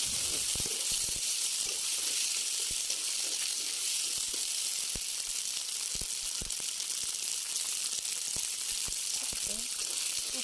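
Onions frying in a pan in a home Odia kitchen, giving a constant dense hiss of sizzling with scattered pops and clicks throughout, fairly loud and close.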